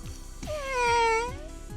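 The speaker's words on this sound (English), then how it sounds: "Who's a good kitty?" A cat gives one clear, drawn-out meow that rises and falls, heard close and alone over a low, steady rhythmic background pulse.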